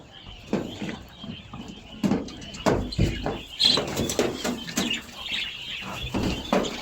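Many caged quail chirping at a bird market, a dense run of short bright calls and peeps in uneven bursts, fairly close, with faint background voices.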